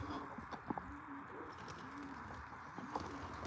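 Racing pigeons arriving at a home loft, with several soft coos and brief bird calls over steady outdoor background noise, fairly faint and distant.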